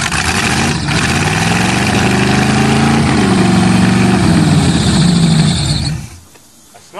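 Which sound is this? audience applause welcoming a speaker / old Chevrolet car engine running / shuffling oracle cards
old Chevrolet car engine running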